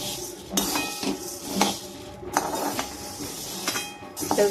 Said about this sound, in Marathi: हे बघा आपले शाबू छान भाजत आले आज छान बारीक गॅसवरती फुलेपर्यंत आपण भाजून घ्यायचं